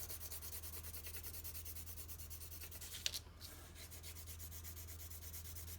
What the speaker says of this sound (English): we could just color this whole thing blue, and we go back and forth.